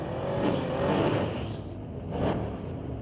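A 2023 Dodge Charger and a 1969 Dodge Dart launch in a drag race, with engines roaring at a distance and swelling as they accelerate down the strip in two surges, with no talk.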